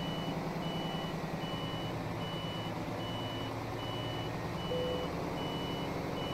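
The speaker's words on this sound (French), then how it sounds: "Le premier tour de manœuvre. Avec le Scania." A Scania truck manoeuvres in Euro Truck Simulator 2, with a steady, regularly pulsing reversing beep sounding over the constant low drone of the idling diesel engine throughout, no talk.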